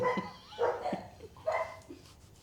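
A German Shepherd gives a few quick, fairly faint barks, three short bursts spaced across a couple of seconds in an indoor room.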